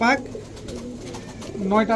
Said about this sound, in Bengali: এখন সবজি গররা চুইঠাল একটা নর কবুতর দেখাবো, একদম খাড়া ঝুটি সবজি গররা